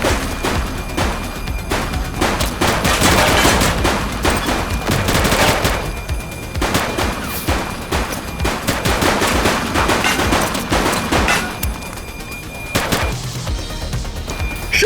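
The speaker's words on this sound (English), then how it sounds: "Shots fired!" Dense, sustained gunfire in the police video game The Precinct, with rapid automatic bursts and overlapping single shots filling nearly fifteen seconds, loud and close throughout with only brief lulls.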